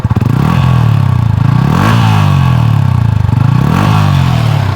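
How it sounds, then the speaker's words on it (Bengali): A fighter-style motorcycle engine runs close by at a steady idle with a loud, rough exhaust burble, pulsing gently with small rises in revs and no talk. "এই হচ্ছে ইঞ্জিনের সাউন্ড এটা হচ্ছে সম্পূর্ণ ইঞ্জিনের সাউন্ড"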